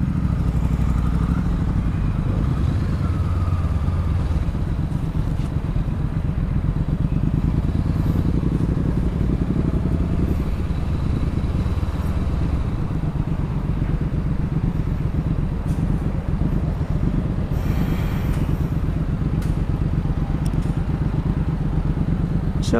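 Honda CB500X motorcycle on the move, giving a long, steady low engine rumble with clattery mechanical texture and constant wind buffeting, close and loud throughout.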